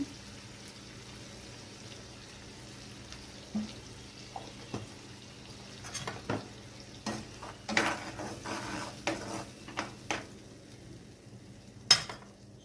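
A spice mixture is stirred in a pan for a pomfret curry, quiet scraping and clinking strokes that come in irregular bursts over a faint low hiss, with no talking.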